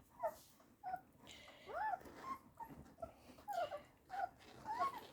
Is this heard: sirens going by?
no